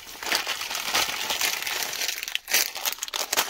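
A plastic bag crinkles and rustles as it is handled up close, with continuous irregular crackling and a few sharper crumpling bursts, fairly quiet and without talk.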